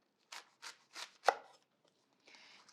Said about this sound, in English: we're going to cut the tails off because we just want the light green